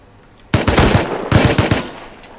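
Automatic gunfire in the survival game Rust: two loud, close rapid bursts of shots, about half a second apart.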